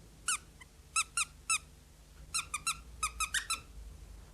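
Gordon the Gopher, a squeaky sock puppet in a leather jacket, gives a series of sharp, high squeaks, alone and clearly heard: a few spaced single squeaks, then quicker clustered bursts.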